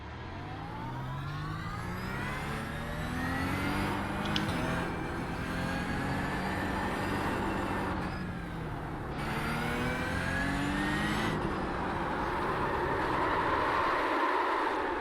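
A race car engine in the iRacing simulator revs up and down through repeated gear changes, loud and close, with rising whines broken by short shift dips and a steady tyre and road rumble beneath.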